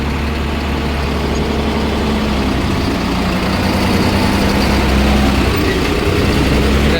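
A Swaraj 969 FE 4WD tractor engine runs steadily and loud in high gear throughout, a continuous low rumble with a deep throb, rising slightly in intensity toward the end.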